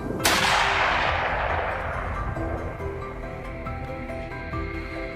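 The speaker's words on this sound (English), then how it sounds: "a rapid barrage of follow-up shots swiftly ended any hope of escape" A single loud rifle shot fired at a wild boar on a Texas farm, a sharp crack that rings out and fades slowly over several seconds across open ground, with no talking.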